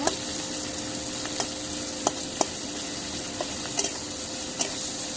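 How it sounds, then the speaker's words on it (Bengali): Onion frying in a pan for a drumstick (shajna) curry, a steady loud sizzle with a few sharp clicks and scrapes of a spoon against the pan. "পেঁয়াজটা একটু ভেজে নিব"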